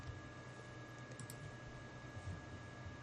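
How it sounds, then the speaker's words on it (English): Quiet, close tapping of keys on a computer keyboard, soft and steady over a low hum, with no talk. "And then over here, I typed in Hardy."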